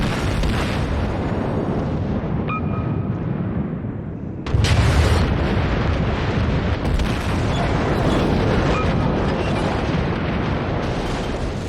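Torpedo hits detonating in the naval game World of Warships, with a Tier 4 premium Japanese battleship in play: a loud, sudden booming blast erupts midway and rolls on into sustained rumbling explosion noise over steady background battle din.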